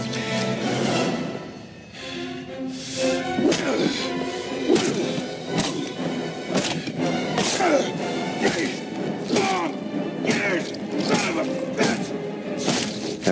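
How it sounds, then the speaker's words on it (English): A film sound effect of a man's body being pounded into floorboards: a rapid series of heavy, wet thuds and smashes lands again and again, loud and close, with grunting voices mixed in. "After a while, all I'm doing is pounding wet chunks of bone into the floorboards"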